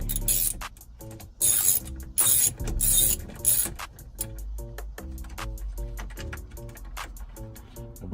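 A ratchet working bolts loose from the dash screen of a Chevrolet Tahoe, with bursts of quick clicking pawl sounds alongside clunks and a steady mechanical rattle, close and fairly loud.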